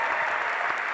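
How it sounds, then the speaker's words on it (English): A college audience at a Charlie Kirk and Candace Owens event breaks into a brief, dense burst of applause, steady and loud throughout. "Give him a round of applause for that."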